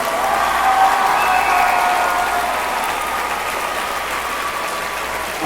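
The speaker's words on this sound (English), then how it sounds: "Give them another round of applause." A crowd at a high school band and choir concert applauds steadily, dense clapping filling the room at close range, with some faint whistling and cheering mixed in.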